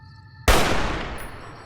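A car blowing up in the video game Fallout: New Vegas, a single sharp explosive blast that bursts in and fades into a decaying rumble over a second, following a quiet tonal game background.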